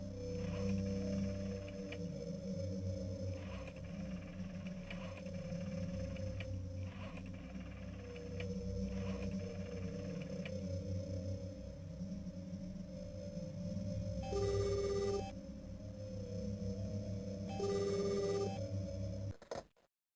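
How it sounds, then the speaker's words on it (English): In the Silent Hill Play Novel video game, a telephone is dialed and then rings. Two short electronic ring bursts sound over a steady, droning ambient hum, with no talking. "So she's gonna try dialing this now."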